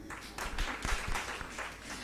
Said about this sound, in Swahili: Pigieni makofi anapokuja.